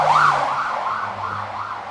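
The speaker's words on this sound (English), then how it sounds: "check these sirens out" A wailing siren rises and falls in smooth repeated sweeps, loud and close over a low rumble of traffic.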